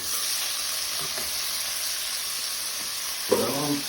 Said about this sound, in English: I like to let my things fry in the curry and everything fry a bit